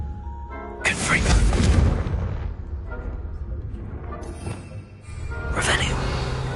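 The Confringo blasting spell explodes in Hogwarts Legacy: two loud, booming blasts, the first long and rumbling, the second fainter a few seconds later, with a voice under the noise.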